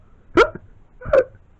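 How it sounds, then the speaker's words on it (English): Two loud, abrupt hiccups from a cartoon bear character, spaced about 0.7 seconds apart with near silence between them and no talking. "Oh my goodness, looks like I got the hiccups."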